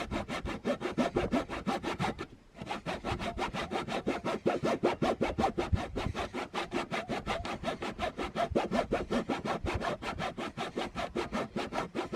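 Hand saw cutting wet wood for a stair stringer, a fast steady back-and-forth rasp of even strokes, close and loud, with one short pause near the start.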